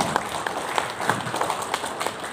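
Seminar audience applauding at a national education conference in Jakarta, a steady dense wash of clapping with scattered sharper claps, moderately loud and continuous throughout.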